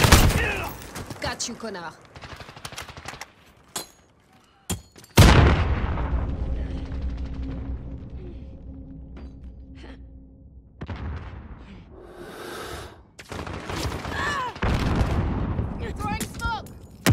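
Call of Duty Modern Warfare multiplayer firefight with bursts of rapid gunfire and heavy booms, loud clusters broken by a quieter stretch of low rumble, and a voice speaking briefly amid the shots.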